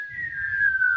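A person whistles a single steady descending tone, imitating a cartoon falling whistle, clear and close with no speech.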